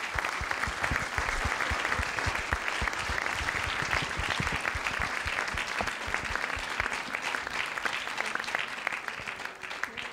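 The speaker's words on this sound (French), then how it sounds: "on vous applaudit vraiment tous les deux." An audience at the Univers Convergents 2018 session applauds two speakers, a dense, steady wash of clapping that stays loud for about ten seconds and eases only slightly at the end.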